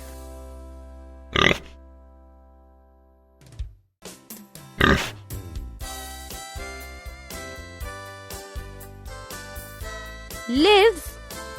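A pig grunts and oinks in a few short, scattered bursts, the last a rising squeal-like call, all heard over light background music.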